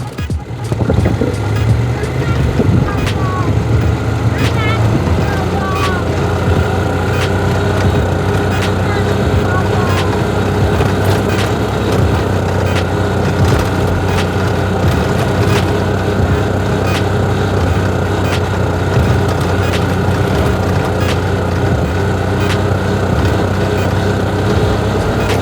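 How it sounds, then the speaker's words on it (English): An engine runs rough with a lean carburetor, droning loud and close throughout, with sharp irregular pops that suggest backfires. "Something wrong with the carburetor. It keeps backfiring."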